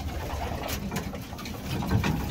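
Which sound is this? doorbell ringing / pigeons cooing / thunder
pigeons cooing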